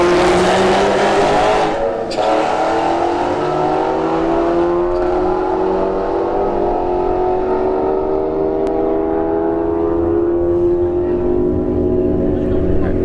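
An S197 Mustang and a Golf R drag racing side by side at a street-heat event, loud engines roaring and climbing through the gears throughout, with faint talk underneath.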